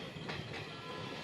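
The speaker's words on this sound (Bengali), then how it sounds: "এদিক দিয়ে দেখো আবার একটা ট্রেন চলে আসছে" Another train approaches on the railway line, a brief, faint, steady rail rumble with a soft clatter, heard from aboard a moving train.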